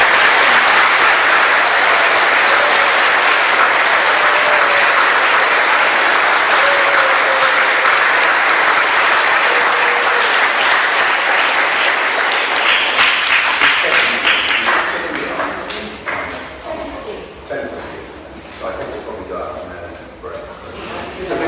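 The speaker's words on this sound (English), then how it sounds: "So can we have a big round of applause?" A big round of applause from a crowd at a poetry finals event, loud and sustained for most of the stretch, then thinning into scattered claps that fade toward the end.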